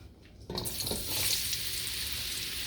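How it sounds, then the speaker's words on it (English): Sweet potatoes begin sautéing in oil in a pan, a sudden burst of sizzling that settles into a steady, fairly loud frying hiss with no talking. "So I'm really not frying these. I'm really just sauteing them."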